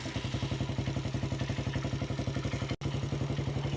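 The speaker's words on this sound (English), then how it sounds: "make sure there's no change in the idle" A Janus 250 motorcycle's single-cylinder engine idles with a steady, rapid thumping pulse, close and loud, with one brief dropout near the end before the even rhythm resumes; no talk.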